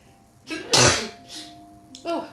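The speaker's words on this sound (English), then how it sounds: "I've got to sneeze." A single sharp human sneeze, loud and close, preceded by a short inhale and followed by brief breathy vocal sounds.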